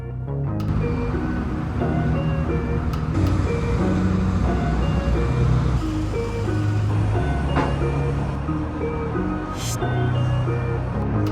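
A semi truck backs into door 21 of a loading dock, its reversing beeper sounding alongside a steady engine rumble and low tonal hum that run continuously and fairly loud throughout.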